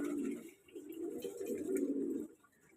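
Pigeons coo in a rooftop loft, a close, steady run of low throaty warbling calls in two main bursts with a short pause between, no speech.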